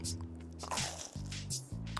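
Crunchy bites into a grilled cheese sandwich made with bakery bread, Asian chili oil and plenty of butter: several close, loud crisp crunches and chewing squishes follow in quick succession, with no talking.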